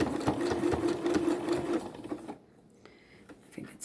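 A sewing machine stitches a zigzag along the edge of a fabric mask, running in a steady fast rattle for about two seconds, then stopping to near quiet with a few faint clicks.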